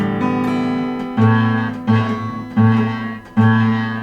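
An acoustic guitar fitted with a ChordBuddy clamped too low is strummed four times in a steady rhythm, each chord ringing close and loud with a slightly buzzy, choked tone as the strings rattle.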